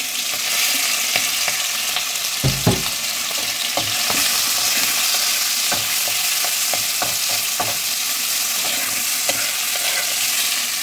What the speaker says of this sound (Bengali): এবার এটাকেও আমি হালকা ভেজে নেব।